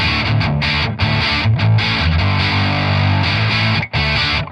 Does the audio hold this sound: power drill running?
no